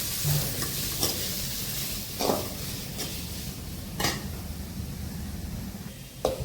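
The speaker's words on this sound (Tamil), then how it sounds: "வெங்காயமும் இந்த கருவேப்பிலையும் போட்டு நல்லா பொன்னிறமா வறுத்துக்கலாம்" Onions and curry leaves fry in a pan with a continuous sizzle, while a spoon scrapes and clinks against the metal at scattered moments. Nearby and moderately quiet, with no speech over it.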